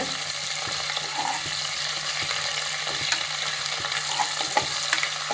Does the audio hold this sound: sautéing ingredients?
yes